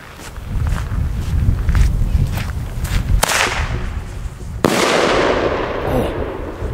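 Bomb tube fireworks bang loudly outdoors, two sharp cracks standing out with a crackling rumble between them and rushing wind noise on the microphone throughout.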